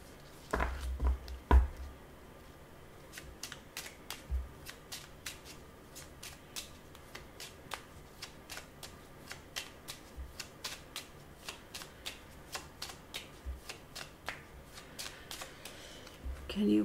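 Tarot cards shuffle quietly at close range, with a long series of crisp flicking snaps and soft slides repeating in an uneven rhythm and an occasional heavier thump against the table.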